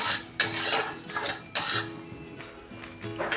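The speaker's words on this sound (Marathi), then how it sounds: "ह्या डाळी भाजण्यासाठी ठेवलेली कढई गरम झालेली आहे ती आता आपण खमंगाशी भाजून घेऊया" Mixed dal lentils are dry-roasted in a hot kadhai for a traditional Satara-style dish, with a spatula scraping and clinking against the metal pan in repeated, fairly loud bursts and no voices.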